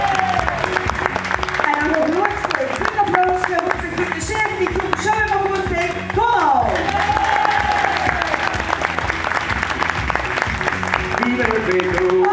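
A festival crowd at the Ghent Festivities closing finale applauds Gina, steady dense clapping filling the whole stretch with music and voices mixed in beneath it.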